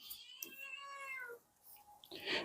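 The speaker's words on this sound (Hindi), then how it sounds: "आई होप आपने बिल्ली का आवाज जरूर सुनना होगा, अभी सुन रहे होंगे भाई" A cat meows in a drawn-out, wavering call that bends downward, followed by a shorter second meow, clear and fairly close with no talk.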